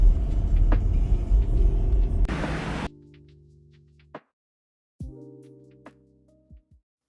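A tram rumbles past on a Budapest street at night, loud and close at first, then cuts off into quiet, followed by a few faint clicks and a ringing bell-like chime.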